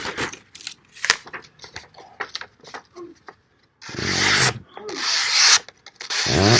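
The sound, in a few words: Demko Sharksfoot knife slicing a piece of paper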